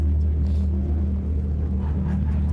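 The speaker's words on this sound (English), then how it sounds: "It's electric and it makes fake noises." Synthetic engine noise played through an electric car's exterior speakers: a steady, deep droning rumble, loud and continuous, with no speech over it.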